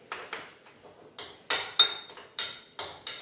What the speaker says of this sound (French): je vais déjà commencer comme ceci, je vais mélanger